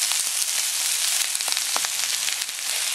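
Vegetables for yakisoba noodles sizzle steadily in a hot pan, a dense continuous frying hiss with a few small pops and crackles, close and fairly loud with no voices.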